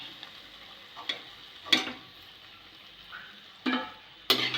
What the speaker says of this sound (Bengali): উল্টে দেবো, উল্টে পাল্টে ভালো করে ভেজে নেব